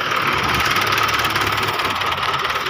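Tractor engine running steadily at close range, a continuous loud mechanical drone with a rough, knocking rhythm and no pauses.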